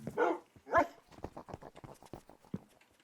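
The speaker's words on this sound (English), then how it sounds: "there's so many fucking dogs on the stairs" Dogs in the Minecraft video game bark in two loud yelps near the start, followed by a run of quieter short yips and whimpers with no talking.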